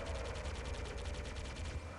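Halo Banshee main cannons fire in a fast, steady stream of rapid plasma shots, even in rhythm and fairly quiet, over a low engine hum.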